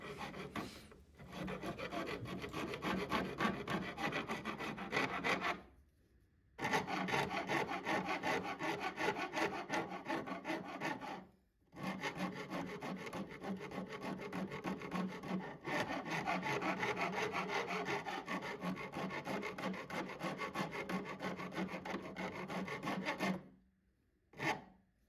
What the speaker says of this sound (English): We're knocking off the corners, gradually reducing the material down, and every little edge which I make with a rasp